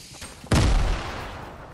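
A grenade explosion in a first-person shooter video game, one loud close boom with a long rumbling tail that fades slowly, coming after a quieter stretch.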